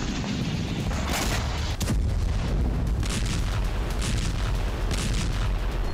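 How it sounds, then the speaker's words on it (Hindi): Artillery shells and MLRS rocket fire in a night attack on Russian soil make dense, continuous rumbling booms and bursts, loud and sustained without pause. "तो कहीं आर्टिलरी शेल और MLRS से बारूदी भूचाल"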